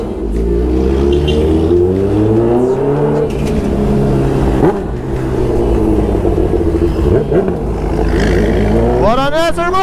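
A new Honda Hornet motorcycle engine runs loud and close throughout, its steady drone breaking into rising revs near the end, with a voice speaking over it.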